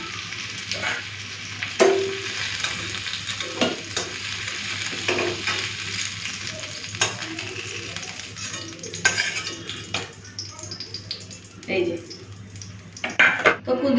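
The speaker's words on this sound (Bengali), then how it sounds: "কুঁদিটাকে ভালো করে ভেজে নেবো মানে লাল করে ভেজে নেবো" Ivy gourd (kundri) frying in mustard-oil-style home cooking in a pan until browned: a continuous sizzle under frequent scraping and clinking of a spatula against the pan, close and fairly loud, with no voices.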